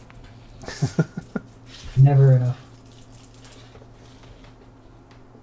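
A dog lets out a short, loud whimper close by, a whining cry of about half a second that follows a few spoken words, with room hum underneath.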